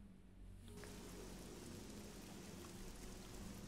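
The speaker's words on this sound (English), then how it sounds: "Is it always raining? Because it always seems like it rains here." Steady rain pouring down in the fantasy role-playing game Oblivion, a dense soft hiss that starts quieter and thickens after a moment, faint and continuous with no voices.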